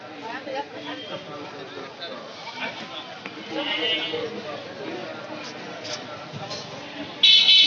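Goats bleating amid a busy crowd of chattering buyers and sellers at a large cattle market in Mymensingh, Bangladesh, with a louder burst near the end.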